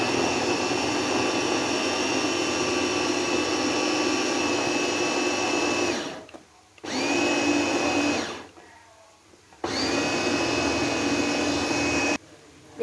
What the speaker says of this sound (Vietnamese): Rồi bây giờ mình sẽ xay.